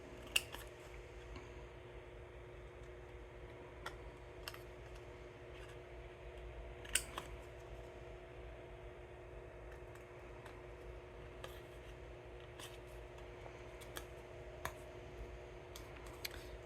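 Scissors snipping out water decals for nail art, faint sparse crisp clicks and snips spread irregularly over a quiet steady hum.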